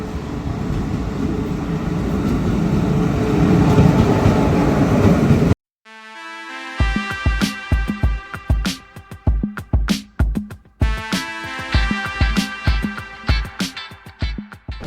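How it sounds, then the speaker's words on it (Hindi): A train arriving at a railway station: a loud, steady broadband rumble for about five seconds, then cut off abruptly and replaced by rhythmic music with sharp beats. "तो भाई ट्रेन भी आ गई है"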